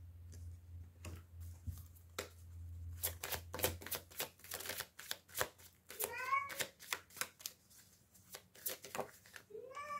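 Tarot cards are shuffled and drawn in a quiet room, giving soft repeated riffling and flicking with light taps, a faint voice now and then.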